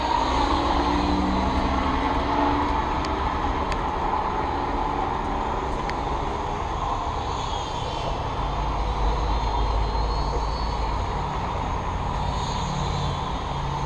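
A small Syma X5C quadcopter drone flies slowly in rain in light wind, giving a steady, continuous whir and hiss throughout with no speech over it.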